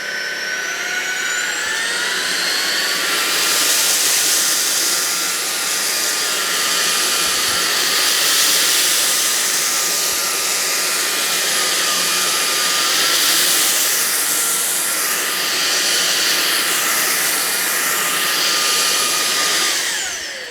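A cordless vacuum cleaner runs on maximum suction, picking up rice from carpet: a steady, loud motor whine with a high airy hiss, holding nearly constant for the whole stretch with slight swells.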